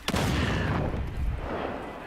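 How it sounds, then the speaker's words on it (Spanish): Air strike explosions in the video game Second Extinction, a sharp loud blast followed by rumbling, crackling booms that roll on and slowly fade over about two seconds. "¿Qué han soltado un ataque aéreo?"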